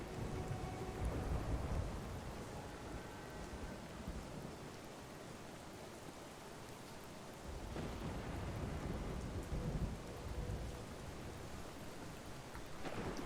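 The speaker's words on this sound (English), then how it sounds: "Now it's raining." Steady rain falls with rolling thunder in the video game Spider-Man 2, a dense continuous wash with deeper rumbles swelling in and out, fairly quiet overall and with no voices over it.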